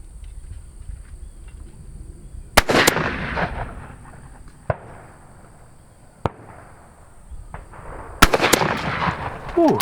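Sharp, loud shotgun blasts ring out at clay targets on an outdoor quail course, a few spaced reports with a quick pair near the start and another near the end, each trailing a brief echo.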